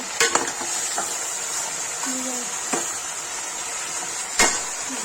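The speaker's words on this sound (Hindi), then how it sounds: "नमक डाल के चला देंगे।" Chicken fries in a pan with salt, giving a steady sizzle under repeated scraping and stirring strokes and a few sharp clinks of a utensil against the pan.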